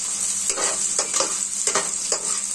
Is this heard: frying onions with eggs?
yes